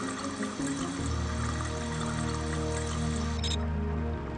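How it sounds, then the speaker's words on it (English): Water runs steadily by a bathroom sink in Deus Ex Revision, a constant broadband rush like a small waterfall at moderate level, with no talking over it. "Why is there the sound of water flowing, like there's a waterfall in here or something?"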